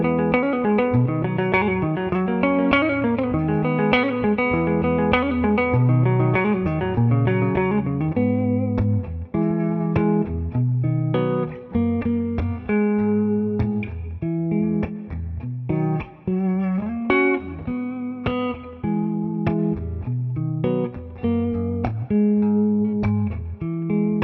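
Clean electric guitar through the clean channel of a 2-Rock Bloomfield Drive amp, with compressor and reverb, plays chords and picked single notes with an even, compressed attack and a wash of reverb, alone with no voices.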